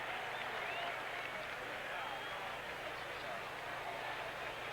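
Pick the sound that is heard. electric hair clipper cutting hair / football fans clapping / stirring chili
football fans clapping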